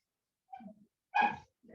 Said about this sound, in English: Sorry if you can hear the neighbour's dogs going out.